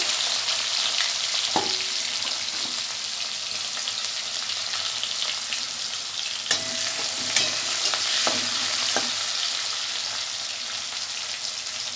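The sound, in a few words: frying onion in a pan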